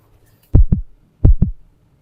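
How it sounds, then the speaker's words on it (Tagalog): A pounding heartbeat sound effect plays two deep lub-dub beats in slow succession, each a heavy double thump, against near silence. "Grabe, kabog yung puso ko."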